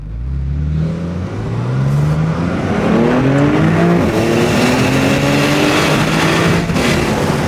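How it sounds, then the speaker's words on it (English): A 2017 Porsche 911 Cabriolet 4S with all-wheel drive pulls hard on the road, its engine note climbing through the revs in rising sweeps, loud and close, with road and wind noise beneath. "2017 Porsche 911 4S. You're getting power to all the wheels."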